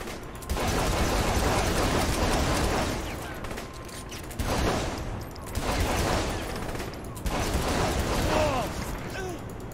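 Gunfire in the video game Saints Row: The Third comes in three rapid, dense bursts of shots separated by short lulls, loud and crackling throughout.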